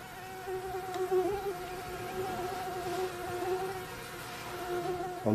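Anopheles stephensi mosquitoes whine steadily in a breeding lab, a thin, continuous high buzz that wavers slightly in pitch, close and persistent with no talk.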